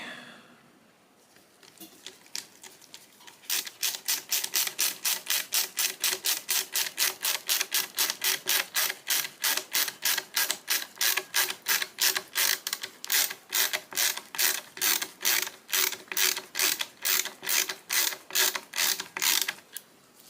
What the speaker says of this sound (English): Take me forever to get these screws in here.